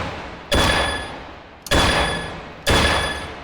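Three sharp gunshots ring out at evenly spaced intervals in a target-shooting video game, each a loud, close crack followed by a decaying tail.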